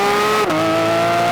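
A Porsche GT3 RS engine revs hard at high pitch and close range, with the tone sliding down abruptly at a quick shift before pulling strongly again, heard from inside the cabin.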